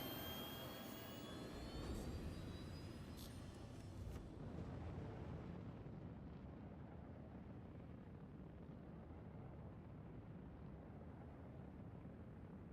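A spaceship engine lifting off in the Star Citizen video game gives a loud, steady roar, with a thin high whine at first that fades as the deep rumble carries on.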